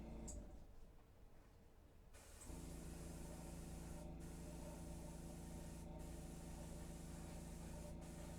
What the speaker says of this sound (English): We're just going to spray him down.